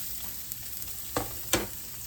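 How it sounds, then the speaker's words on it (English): Vegetables sauteing in a pan, with a soft steady sizzle and a few scraping stirs of a utensil, two of them sharper and louder, with no talking. "Now I want to saute my vegetables a little bit before I put them in my eggs."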